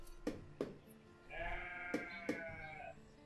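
Sheep in the Banished video game bleat faintly, one drawn-out call rising over soft background clicks and taps.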